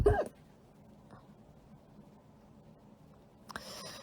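A person gives two sharp hiccups, one at the very start and another near the end, separated by a stretch of quiet room noise.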